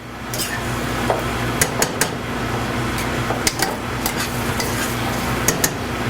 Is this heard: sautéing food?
yes